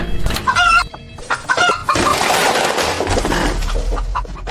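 Chickens cluck and squawk up close, a burst of agitated fowl calls with a rooster-like cry, followed by a rush of flapping and scuffling commotion.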